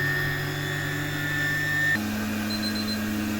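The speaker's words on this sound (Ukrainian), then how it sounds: "можна увімкнути і нехай набирає обороти" A milk cream separator for goat's milk runs empty as it spins up to working speed, a steady mechanical whine and hum that shifts to a higher pitch partway through, close and continuous.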